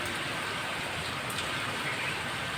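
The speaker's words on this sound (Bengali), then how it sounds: "এখন বৃষ্টি শুরু হয়েছে দেখো সকাল থেকে" Morning rain falls in a dense, even hiss that keeps up without a pause. It sounds close and fills the whole clip.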